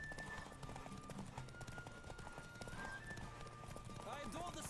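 A horse gallops in a race in The Witcher 3 video game, its rapid hoofbeats drumming steadily under game music and effects, with a brief whinny near the end.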